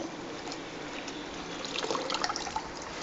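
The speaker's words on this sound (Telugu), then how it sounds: "సరిపడా వాటర్ కూడా పోసేసుకుని" Water is poured into a cooking pot for ginger rasam, a steady close splashing flow that runs without a break and grows a little busier and more bubbly toward the end.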